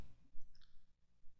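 A few faint computer mouse clicks, a right-click and a menu selection, sparse and quiet over a low background hum, with no talk.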